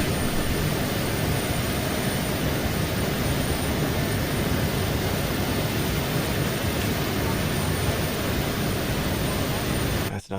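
Commercial jet aircraft engine roaring loud and steady, a continuous broadband rumble with a faint high whine, playing alone before cutting off abruptly at the very end.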